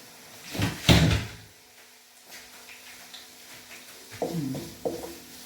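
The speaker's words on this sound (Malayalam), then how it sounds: "അപ്പോഴേക്കും ഞാൻ ഡോർ അടയ്ക്കട്ടെ" A kitchen door in a London home is pushed shut, giving a muffled thump and rattle early on, followed by softer knocks and handling sounds, fairly close and with no talking.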